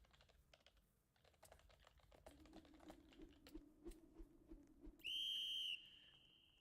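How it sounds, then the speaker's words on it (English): Quiet, rapid keystrokes on a computer keyboard patter irregularly and close by, joined midway by a low hum and then a brief steady high electronic tone. "I'm typing something right now, so I can't commentate immediately."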